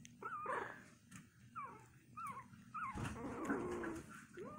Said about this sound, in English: Who was growling?